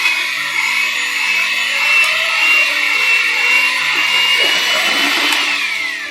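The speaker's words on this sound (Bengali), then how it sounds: "একবার ব্লেন্ড করে নেব।" An electric blender mixes chocolate vanilla cake batter with a loud, steady whirring drone that runs close by without a break for about six seconds.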